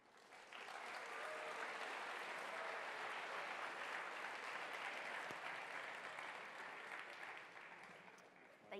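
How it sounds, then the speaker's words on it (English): An audience applauds engineering speaker Jeremy Wilson with sustained, dense clapping that fills the room for about eight seconds before tapering slightly at the end. "Please give Jeremy a round of applause."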